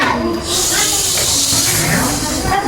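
Children's voices imitate a snake's hiss in a primary classroom, producing a loud, sustained hissing that runs almost continuously with brief dips.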